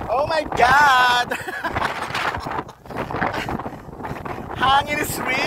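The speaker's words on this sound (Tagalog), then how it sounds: "Hangin is real! Super windy!" Strong gusting wind buffets the microphone in an open coastal spot, roaring in uneven surges while people talk and exclaim over it.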